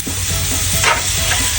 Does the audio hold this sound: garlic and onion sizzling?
yes